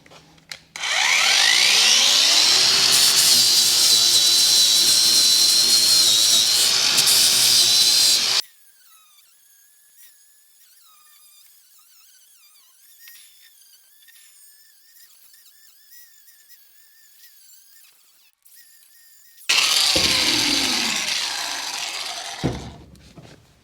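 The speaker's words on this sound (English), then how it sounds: "did go through and grind off that seam seal very quickly, probably comparable to the other grinders I've got." A Hychika cordless grinder grinding old seam sealer off rusted car rocker panels: a loud, high whining grind lasting several seconds, then a long quiet stretch, then another short burst of grinding that winds down.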